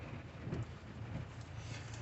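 Steady rain keeps up through the background as a broad, even hiss with a soft low rumble, with no voice heard over it.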